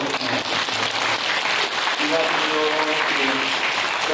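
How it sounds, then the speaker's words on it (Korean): A church congregation at a Christmas thanksgiving service applauds the newly baptized, steady hall-filling clapping throughout, with voices murmuring underneath. "그럼 뜨겁게 박수로"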